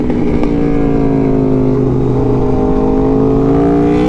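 A 2024 Aprilia RSV4 Factory sportbike ridden on a damp mountain road, its engine a loud, close, steady drone that rises slowly in pitch as it pulls, continuous with no voices.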